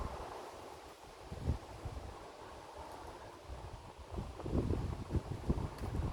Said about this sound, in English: It is a little bit windy today.